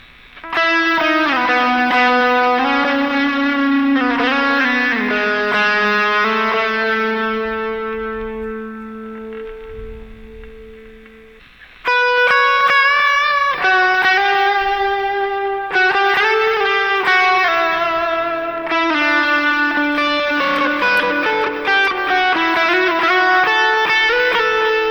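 An electric guitar runs through a drive pedal with delay and reverb, playing loud, sustained, slightly distorted notes with echoing tails. A long held chord fades, then a fresh strum comes in and more ringing notes follow.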